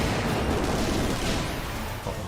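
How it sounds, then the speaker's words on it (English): A dense, continuous barrage of booming explosions and crackling gunfire in the video game Final Fantasy XIV, loud and chaotic, with no clear breaks throughout. "that's a lot of explosions"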